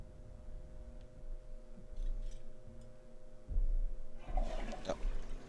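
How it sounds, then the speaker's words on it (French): A toilet flushing in Cyberpunk 2077: a low hum and faint clicks give way to a close rush of swirling water that starts midway and continues to the end. "Ah, tire à chasse d'eau."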